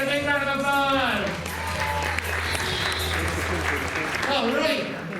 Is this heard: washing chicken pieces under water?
no